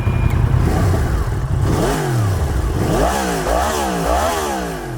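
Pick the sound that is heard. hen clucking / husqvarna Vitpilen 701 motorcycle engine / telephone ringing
husqvarna Vitpilen 701 motorcycle engine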